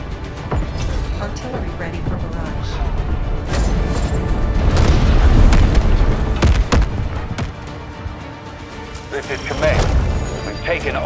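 Cruise missile strikes in the video game Delta Force Hawk Ops land as a dense run of loud, heavy booms and crashing blasts lasting several seconds, with speech over them.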